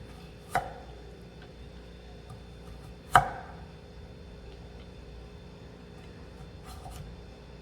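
A knife slicing carrot into 0.5 cm pieces for shrimp fried rice gives a couple of sharp, isolated knocks on the board, the second louder, with a few faint taps between over a quiet kitchen background.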